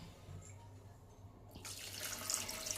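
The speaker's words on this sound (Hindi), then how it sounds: "अब इसी के अंदर 1 कप उतना पानी डाल दीजिए।" A cup of water is poured into a pot of Hyderabadi meat, potato and bean curry, starting as a sudden bright splashing rush halfway through after a quiet stretch, close and steady, with no speech.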